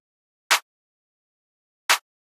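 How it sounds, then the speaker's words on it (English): A Luca Babe clap sample from the Starstruck Multi kit, in its default pattern in an FL Studio beat, snaps twice, evenly spaced about one and a half seconds apart. Each clap is short and bright, in silence. "Then I have this Luca Babe clap out of the Starstruck Multi kit again,"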